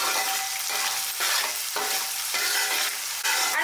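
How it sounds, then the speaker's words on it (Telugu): Chicken pieces for biryani fry in hot oil with a constant, close crackling sizzle, broken at intervals by the scrape and swirl of stirring, with no voices. "చక్కగా దీన్ని కూడా మంచి ఆయిల్లో ఫ్రై చేసుకోండి, అప్పుడే కూర చాలా బాగుంటుంది"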